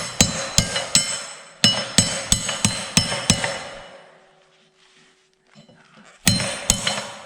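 A hammer strikes a bent metal gate peg in sharp, ringing taps in a cold workshop, several quick blows in bursts, then a quiet pause before two more strikes.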